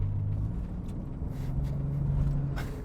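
The biturbo engine of a Toyota Supra mk4 hums from inside the cabin, a steady low drone with a faint rise in pitch as the revs climb, heard fairly quietly with no talking.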